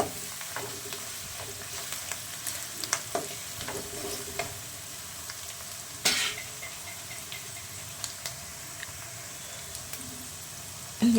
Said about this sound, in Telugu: ఒక స్పూన్ పసుపు వేసుకోవాలి పసుపు వేసుకొని కలుపుకోవాలి